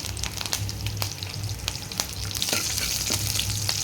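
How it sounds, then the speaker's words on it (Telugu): Cumin, mustard seeds and curry leaves spluttering in hot oil for a fenugreek gravy, a steady close sizzle with sharp irregular pops and crackles throughout. "జీలకర్ర, ఆవాలు కూడా వేస్తున్నాను. దీంట్లోనే కొంచెం చిటిపట అంటున్నాయి కదా"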